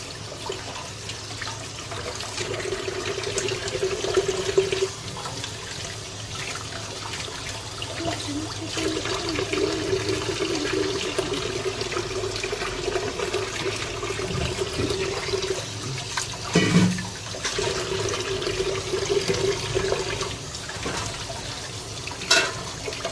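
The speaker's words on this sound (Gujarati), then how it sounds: "પાણી થોડુંક ધીમું કરવું પડે. હવે પાણી બધું ભરાઈ ગયું બેસિનમાં." Tap water runs steadily into a basin used for washing chicken, a continuous low trickle and gush that goes on throughout with only small changes in flow.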